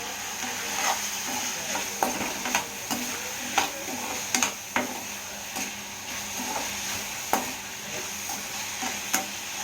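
Egg capsicum fry being stirred in a hot pan, steady close sizzling broken by repeated sharp clicks and scrapes of the spoon against the pan at an uneven rhythm, no voices.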